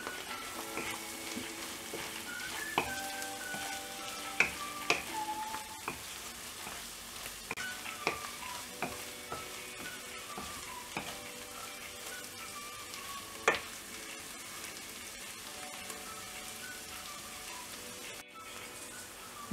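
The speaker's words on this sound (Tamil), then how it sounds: "இப்போது தேவையான அளவு உப்பு ஆட் பண்ணிவிட்டு இதை நல்லா மிக்ஸ் பண்ணிடலாம்." Tuna sandwich filling fries in a pan while being stirred with salt, a continuous soft sizzle broken by frequent spatula scrapes and clinks against the pan.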